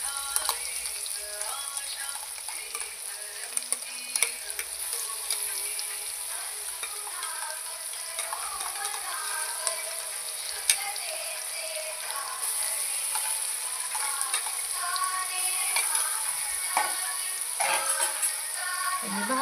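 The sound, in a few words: spice paste and curry leaves frying in a pan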